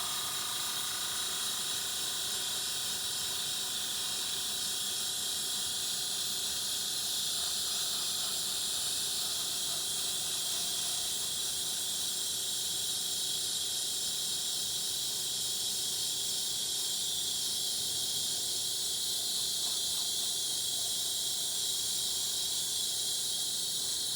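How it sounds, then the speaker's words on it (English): An airbrush sprays a coat of paint in a steady, continuous hiss that runs unbroken and fairly quiet, with no voices. "As always, you just have to be constantly moving your airbrush and make sure you don't overly saturate one side of the piece."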